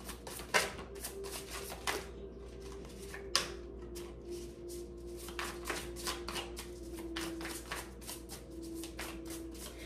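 Tarot cards being shuffled in quick riffling bursts, crisp flutters repeating alone in a quiet room with a faint steady hum.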